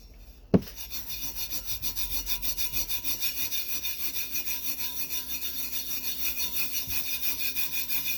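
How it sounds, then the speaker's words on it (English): Steady rhythmic rubbing as a tumbler surface is burnished, a fast, even back-and-forth scraping that runs continuously after a single sharp knock at the start, close and fairly loud with no voice. "now you're going to burnish it. So what you do is you just start to rub."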